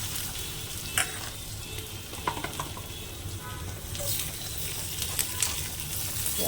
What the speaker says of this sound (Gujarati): તેલ મૂકી દેવાનું વઘાર માટે. રાઈ, જીરું, સૂકું મરચું, લીમડો અને ડુંગળી.